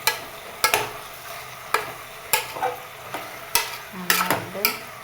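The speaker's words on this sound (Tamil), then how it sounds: "தக்காளி போட்டு மிக்ஸ் பண்ணிக்கோங்க." Tomatoes frying in a pan while being stirred: sharp utensil knocks and scrapes repeat at an uneven pace over a low sizzle, close and clear, with no talking.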